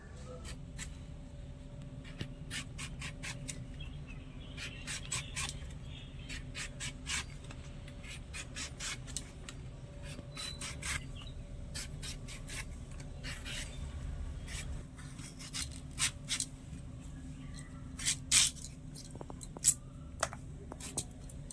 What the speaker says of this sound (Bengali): এবারে আমের খোসা ছাড়িয়ে আমটা একটু পিস পিস করে কেটে নেবো